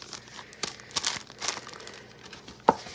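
A plastic bag handled and crinkled up close while ground beef jerky is prepared, with scattered rustles and a sharp crackle near the end, no talk.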